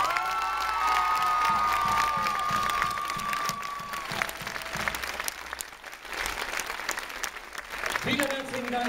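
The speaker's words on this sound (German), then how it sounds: "Meine Damen und Herren, so einen Waldviertler-Applaus hätte ich gern." At a sports acrobatics birthday show, an audience breaks into loud applause and cheering, with children shouting and a sustained vocal tone over it, before the crowd noise thins and a voice starts speaking at the end.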